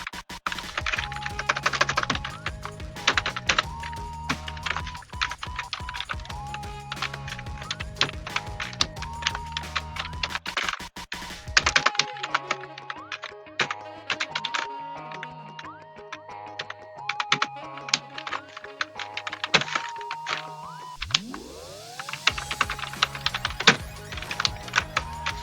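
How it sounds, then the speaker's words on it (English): Steady typing on a computer keyboard, with rapid close key clicks and thunks running continuously, a brief lull midway before the tapping resumes. "Now let us type something."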